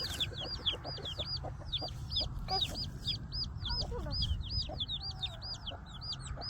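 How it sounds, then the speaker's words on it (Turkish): Backyard chickens clucking steadily, a rapid run of bright repeated clucks and calls close by, continuous across several seconds over low background noise. "Bakın tavuklarımız."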